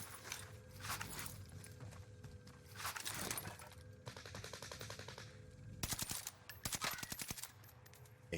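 Rapid bursts of gunfire in Warzone, a video game, with sustained automatic volleys and sharp single shots over constant background game noise, a few clattering footstep-like sounds mixed in.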